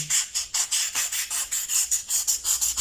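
Styrofoam (icopor) panel being sanded by hand for a landscaping project, a steady rhythm of about a dozen raspy back-and-forth rubbing strokes, close and fairly loud with no talking.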